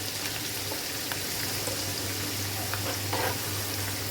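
Ginger and green chilli frying in oil as a tarka for chana dal, a steady soft sizzle with a constant low hum beneath and a few faint clinks, no voices.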